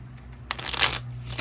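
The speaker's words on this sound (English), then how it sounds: "let me shuffle" A brief, quiet riffle of tarot cards being shuffled, a soft papery flutter lasting about a second.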